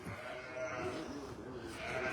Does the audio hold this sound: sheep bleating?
yes